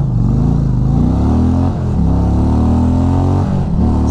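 A motorcycle, compared between Indian and Harley-Davidson, accelerates hard in a 0 to 60 run, its loud close engine roaring with rising pitch and brief dips at gear shifts.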